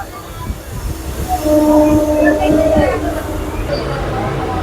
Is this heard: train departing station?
yes